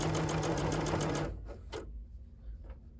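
A Bernette B77/B79 sewing machine stitching during free-motion quilting, a dense rapid whir with a steady hum for about a second, then stopping, leaving a few softer mechanical clicks.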